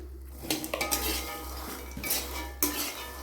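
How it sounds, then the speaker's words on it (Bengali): Peanuts are dry-roasted in a dry wok, with the nuts rattling and a metal spatula scraping and clinking against the pan in a few quick bursts over a steady background hum; no one speaks. "আমি আজকে দেখুন এমনি শুকনো কড়াতেই বাদাম ভাজছি।"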